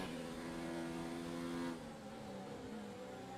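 Racing car engine from F1 2019 drones steadily at high revs with harmonic whine, then the pitch and level drop slightly as the throttle eases, continuing at a lower, steady hum.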